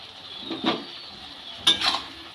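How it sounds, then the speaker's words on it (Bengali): Chalta pickle is stirred with masala in a pan, and a spoon knocks and scrapes against the metal in two short clattering bursts over a quiet background. "এবার খুব ভালো করে নেড়ে দেব"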